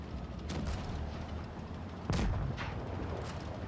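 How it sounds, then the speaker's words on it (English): A tank shell strike in World of Tanks Blitz, fired from a T-34: a sudden heavy boom-like impact standing out over a constant low engine rumble and scattered lighter bursts, with no voices. "We take a big shot there from the T-34"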